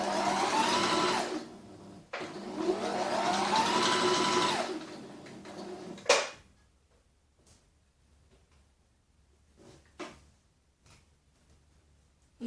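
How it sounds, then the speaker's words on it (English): A sewing machine stitches a neckline seam on gold metallic stretch fabric with a loud, fast, rattling hum for about six seconds, briefly slowing midway, then stops abruptly and leaves quiet room sounds and faint clicks. "Follow your pins and just use your foot as a guide so you get a nice equal seam all the way around."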